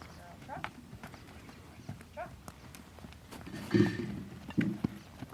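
Hooves of a wild mustang mare clop irregularly on the ground while she is lunged, close and moderately loud with a few heavier thuds, and a person talks over them.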